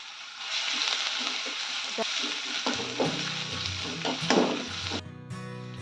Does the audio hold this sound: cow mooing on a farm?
no